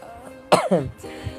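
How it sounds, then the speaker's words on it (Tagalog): A single sharp, harsh cough bursts out, followed by a second rougher hack, close by, with quiet room tone around it. "Okay, inuubo agad."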